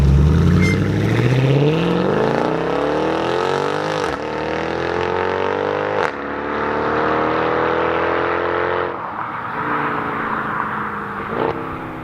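A 2014 Mercedes C63 AMG engine accelerating hard, a loud continuous roar rising steadily in pitch through several gear changes, heard up close with no talk.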